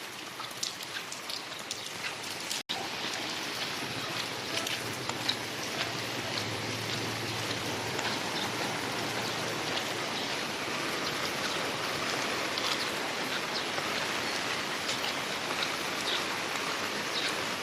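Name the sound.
rain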